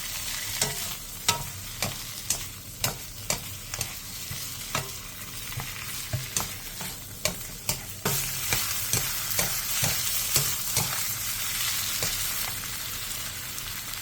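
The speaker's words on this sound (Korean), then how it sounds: "팬에 기름을 두른 뒤 묵은지를 넣고 중불에서 3분 정도 볶아주세요." Aged kimchi stir-frying in oil in a pan over medium heat, a steady close sizzle broken by repeated scraping stirs of the spatula, with no talk.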